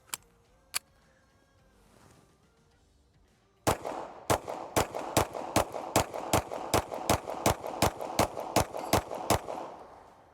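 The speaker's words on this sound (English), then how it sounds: "The next one that we're going to shoot the Springfield Hellcat." A Springfield Hellcat compensated carry pistol fires a 15-round magazine in a rapid, evenly spaced string of loud, sharp shots. A couple of isolated reports and some handling noise come first.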